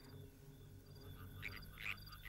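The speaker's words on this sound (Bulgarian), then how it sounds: "Това е жаба." A frog croaks over a low background hum, sounding as a few short, bright calls that grow louder toward the end, with no voices.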